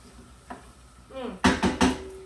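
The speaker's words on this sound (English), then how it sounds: "So we're going to stir this up just a little bit." A spoon stirs cooked squash and peas in a pan, giving a few soft scrapes and then three louder clinking strokes near the end, close and short.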